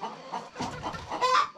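Many chickens cluck together inside a coop, a busy overlapping chorus at close range with one louder squawking call near the end; no talking.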